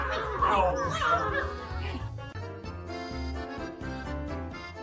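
A police dog whimpers and yips in a rapid string of high, whiny cries, close and fairly loud, with some speech mixed in.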